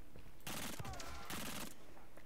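Rapid automatic gunfire from a weapon in the shooter game Wolfenstein: Youngblood, two loud sustained bursts separated by a short pause, with no talk over them.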